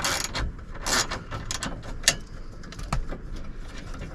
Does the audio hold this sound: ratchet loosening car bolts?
yes